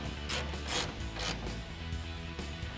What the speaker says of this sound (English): 17mm socket and tighten it down.